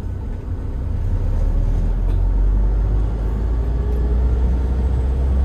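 A 2013 Toyota Hiace Commuter van driving in second gear, heard from inside the cabin as a loud, steady low engine and road drone that rises slightly after the first second.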